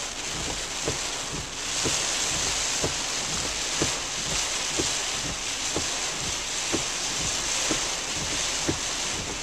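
Ocean surf at Dragon Head Beach during a downpour, a steady, loud wash of breaking waves blended with wind and rain noise, with faint regular ticking throughout and no voices.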